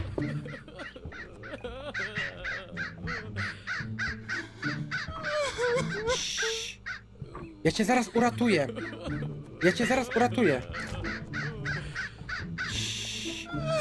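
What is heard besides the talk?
raven cawing in the video game Hello Neighbor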